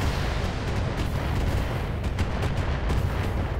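Missile salvos fire in the BattleTech mech game, a dense rapid series of launches and blasts crackling continuously at close range with no talking.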